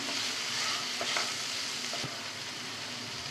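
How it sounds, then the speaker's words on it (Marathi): Peas and chopped coriander are stirred in a hot pan, a continuous close sizzle broken by occasional scraping stir strokes, moderately loud with no voices. "भरपूर बारीक चिरलेली अशी कोथिंबीर आता मिक्स करून घेऊया"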